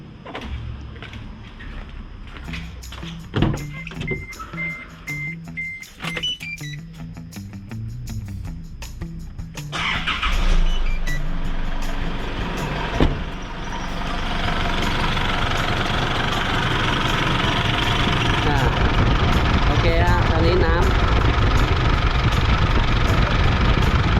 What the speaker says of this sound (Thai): เราสตาร์ทเครื่อง